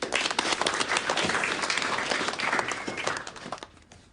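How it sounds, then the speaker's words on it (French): Crowd applause for a performer's introduction at a staged event, dense clapping filling the whole stretch and fading out toward the end, with no talk over it. "Je vous demande un tonnerre d'applaudissements pour Jess Banda."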